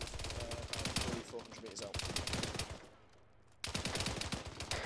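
Sustained GPMG machine gun fire in an ArmA 3 firefight, rapid bursts chattering almost continuously with a short lull before the fire resumes loudly.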